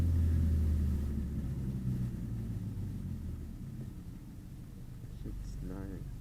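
Engine of a BMW 328i with full bolt-on modifications while driving: a steady low rumbling drone heard from inside the car, slowly easing in level, with voices talking briefly over it.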